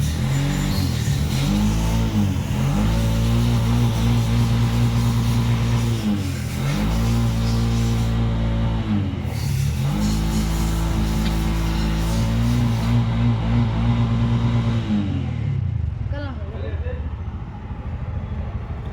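A Bajaj BS6 motorcycle engine runs and revs loudly in repeated rising and falling surges, holding a steady idle between them, with a person talking over it.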